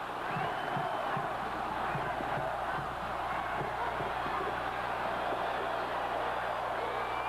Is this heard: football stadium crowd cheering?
yes